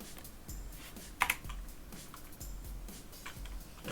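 Computer keyboard typing close by, a quick scatter of soft key clicks with one sharper cluster of strikes, steady and fairly quiet with no voices.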